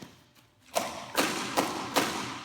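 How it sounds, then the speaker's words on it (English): Four close, firm kicks land on a Tiger Claw kicking pad fitted with a clapper in the middle, giving popping thuds at a steady rhythm after a quiet start. "this Tiger Claw brand we got online has a clapper in the middle, which accentuates the pop even louder"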